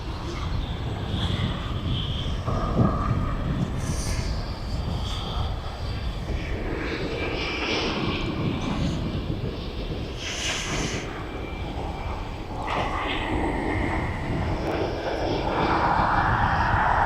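Ryanair airliner passing overhead on approach to East Midlands Airport, a steady, broad engine roar that stays loud throughout with wind noise mixed in and swells slightly toward the end.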